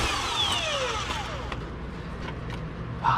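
Power tool working a suspension bolt under a BMW E46, a whining pitch that sweeps downward and then several short rattling bursts over a steady background hum.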